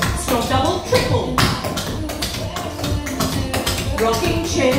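Clogging dance steps, including doubles and triples, make rapid, crisp taps and shuffling strikes in quick rhythmic bursts that ring out over background music.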